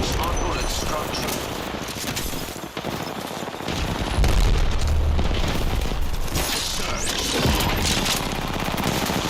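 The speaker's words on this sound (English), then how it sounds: "Frag out" Frag grenade blast in Apex Legends during a competitive match, a heavy boom rolling through dense gunfire and ability effects, with a voice talking over the chaotic mix.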